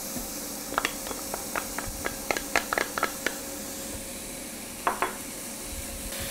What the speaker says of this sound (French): On dépose l'oignon dans l'huile.